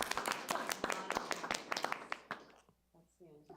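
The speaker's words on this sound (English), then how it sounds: "We should probably give everybody a round of applause for the City of Good employees." Attendees at a city council annual planning conference give city employees a round of applause: a dense burst of clapping that tapers off after about two and a half seconds, followed by a voice speaking.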